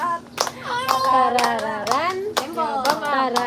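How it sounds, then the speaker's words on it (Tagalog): Hands clapping in a steady rhythm, sharp close claps keeping time under a voice singing wordless syllables. "Oh, yan na, palakpak na ako."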